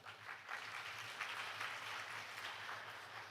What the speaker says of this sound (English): many thanks and a round of applause to the speaker